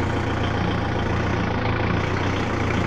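A tractor engine running steadily while driving to a rice paddy field with a urea sack weighing down the front, a constant low rumbling drone, close and loud with no talk.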